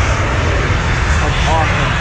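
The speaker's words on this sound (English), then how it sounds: "Another plane taking off, yo." An airplane takes off outdoors, its engines a steady, broad roar heard from a distance across a city street, with a faint rising whine mixed in.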